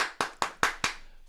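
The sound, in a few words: hand clapping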